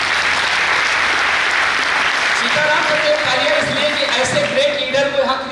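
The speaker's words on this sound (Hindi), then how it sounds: "हमारे state team coordinator mister Ram पूजन के लिए तो जबरदस्त तालियां होनी चाहिए" Audience applauding for a state team coordinator at an industry education event, a continuous wash of clapping with people talking and calling out over it toward the end.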